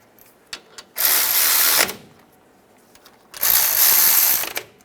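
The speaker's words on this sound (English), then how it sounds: "Get the bolts started." A ratchet wrench runs brake caliper bolts onto a Ford Expedition in two loud, close bursts of rapid clicking, each lasting about a second, with a quiet pause and a few light taps between them.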